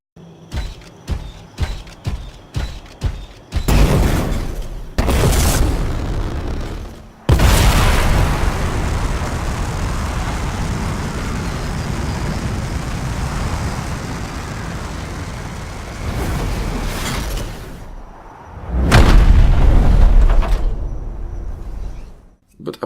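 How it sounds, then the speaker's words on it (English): Loud explosions and roaring boosters from the video game Anthem: a run of sharp staccato booms, then a long sustained rushing thrust, a brief gap and another heavy blast burst near the end. "Sound in this game is very good. Explosions, boosters of your javelins,"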